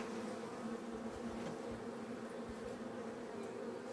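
Honey bees buzzing steadily at an open hive, a dense, continuous hum of many insects that stays even and fairly close throughout, with no voices.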